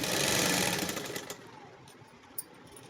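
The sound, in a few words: sewing machine stitching pant fabric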